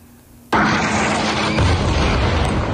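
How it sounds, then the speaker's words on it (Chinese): A missile explodes in an Israeli airstrike on Rafah in southern Gaza: a sudden loud blast bursts out of near silence and turns into a dense, sustained roar that swells again moments later. "接连2枚飞弹坠地爆炸，住着上百万难民的加萨南部拉法再度遭到以色列的空袭"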